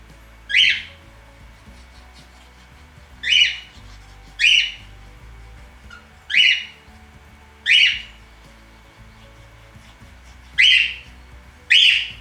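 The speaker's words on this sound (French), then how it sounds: "mon oiseau chante, mais il fait grand soleil" A pet bird sings indoors on a sunny day, repeating short bright whistled phrases about every second or two, fairly close and clear over quiet background.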